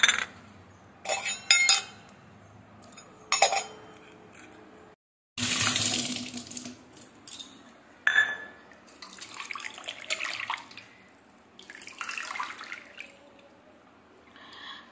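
A small bowl clinks as tulsi (holy basil) leaves picked for a Gopal deity's worship garland are set into it, with scattered clatter and watery splashing in bursts across a quiet room, no one speaking.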